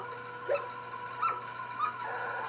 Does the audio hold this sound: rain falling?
no